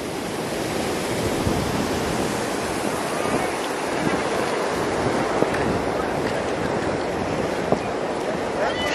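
The Banas river in Rajasthan flowing in flood makes a dense, continuous roar of rushing water, loud and steady throughout with wind noise on the microphone.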